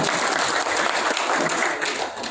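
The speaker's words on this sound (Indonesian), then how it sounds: "kita berikan tepuk tangan yang meriah untuk Bapak Ahmad Saruli." Loud, dense applause from a large crowd at an Indonesian organisation's formal gathering, steady sustained clapping for a couple of seconds with no talk over it.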